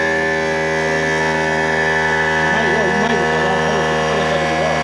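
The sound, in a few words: air compressor running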